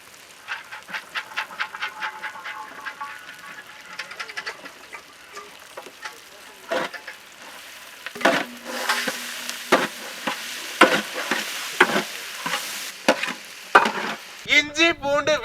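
Chopped beans and carrots sizzle in a pan for egg biryani, and a spoon scrapes and stirs them in clattering bursts that grow busier and louder partway through. Nobody speaks.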